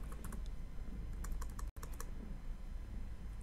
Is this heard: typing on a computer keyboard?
yes